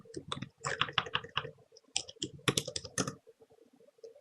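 Rapid bursts of computer keyboard typing, close and crisp, with clustered keystrokes in uneven runs separated by short pauses, thinning out toward the end.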